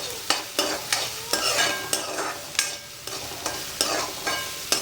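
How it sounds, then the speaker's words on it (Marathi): Onions frying on high heat for a chickpea vegetable curry, stirred in a pan with regular scraping strokes about every half second over a constant sizzle, close and clear with no speech. "गॅस थोडं फास्टच ठेवायचं आहे कारण की कांदा लाल व्हायला पाहिजे"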